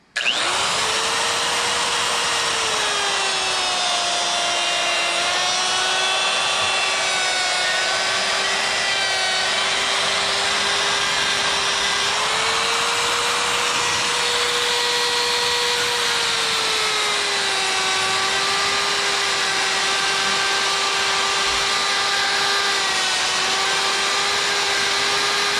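A rotary tool with a Saburrtooth cutter burr carves eyes into a chainsaw-carved wooden bear, making a continuous high-pitched whine that dips slightly in pitch as the burr bites into the wood, steady and close.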